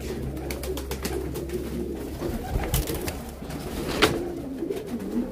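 Low, rolling coos from several ground tumbler pigeons over steady ambient noise, with a couple of short sharper sounds.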